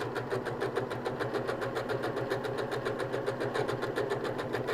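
A sewing machine runs a steady, even stitching rhythm along a long fabric tube for a scrunchie, moderately close and uninterrupted throughout.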